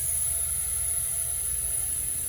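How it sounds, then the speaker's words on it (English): A walk-in freezer's refrigeration system runs as Freon is pumped through it, giving a steady low whirring hum with a faint high-pitched whine and broadband hiss. The sound is close and continuous, with no speech. "So that's the sound of Freon being pumped through the system."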